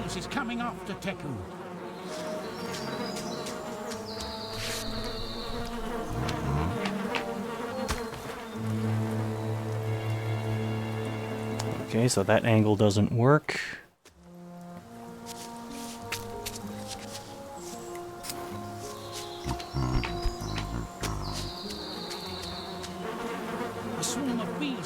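A swarm of bees drones continuously in a video game, a thick buzzing hum layered with game music, briefly cutting out midway before resuming; someone speaks briefly over it.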